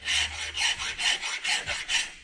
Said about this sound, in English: I'll take a flat file and just kind of get the rust off the edge here